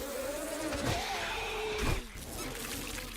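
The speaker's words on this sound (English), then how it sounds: "Why are there so many bees?" Swarm of bees buzzing in a video game, a steady dense drone filling the scene with a couple of louder swells, no talking over it.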